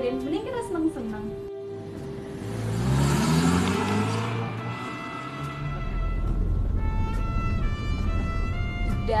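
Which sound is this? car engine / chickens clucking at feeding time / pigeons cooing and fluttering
car engine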